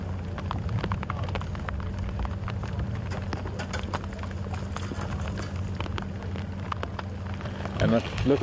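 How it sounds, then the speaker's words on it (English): Rain falling in the bush during an evening safari drive, a steady patter with scattered drops and taps on nearby surfaces, accompanied by a low rumble and a brief knock near the end. "Maybe what you're hearing now is rain."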